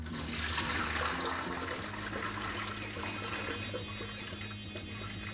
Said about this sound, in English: don't worry about pouring the whole thing out because it's like rice starts falling out